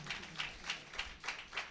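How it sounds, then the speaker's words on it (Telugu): Church congregation at a Sunday service clapping in a steady rhythm, about six evenly spaced bursts of hand claps, moderately loud with no talking over them. "చప్పట్లు కొడతాం మనం అందరం గట్టిగా"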